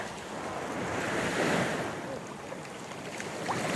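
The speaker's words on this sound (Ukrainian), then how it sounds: "Сьогодні хвилі. Ну, бувають, звичайно, і більші, але не малі." Black Sea surf at Odesa rolls and washes continuously over murky water, a broad roar mixed with wind buffeting the microphone, swelling slightly in the middle.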